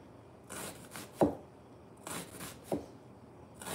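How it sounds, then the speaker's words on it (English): A knife cuts onions into small bite-size slices on a board, a few soft scraping strokes and two sharper chops in an unhurried rhythm, close but quiet. "I'm pretty much cutting up the onions, and I'm gonna do small bite slices of onions."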